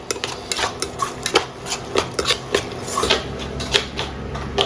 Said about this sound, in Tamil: நல்லா கொஞ்சம் ஹை ஃப்ளேமில் வச்சு நல்லா ஒரு வதக்கு